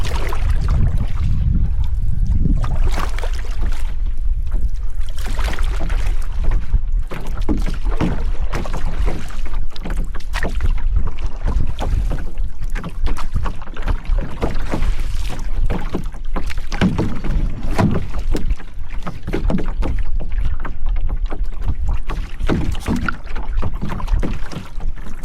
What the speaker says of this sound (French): Peut-être parce que c'est trop venteux.